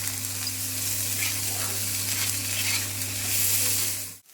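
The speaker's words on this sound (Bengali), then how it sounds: "পেঁয়াজ রসুন আদা লঙ্কা সমস্ত কিছু একটু ভালো করে ভেজে নিয়েছি আর এবার এর মধ্যে টমেটোগুলো দিয়ে দিলাম" Onion, garlic, ginger, chilli and tomatoes fry in a pan with a dense, continuous close-up sizzle and a bit of stirring, with a low steady hum underneath and no talking.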